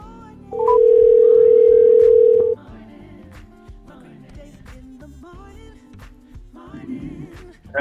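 A steady telephone dial tone hums for about two seconds, followed by quieter background music.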